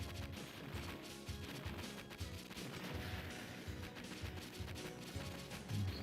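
The chase cannon weapon fires continuously in the 1994 Sega CD shooter Android Assault: The Revenge of Bari-Arm, a dense, steady barrage of rapid blasts and crunchy impacts mixed with the game's soundtrack.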